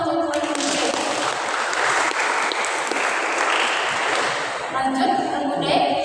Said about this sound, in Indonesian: Kita kasih tepuk tangan dulu untuk regu C.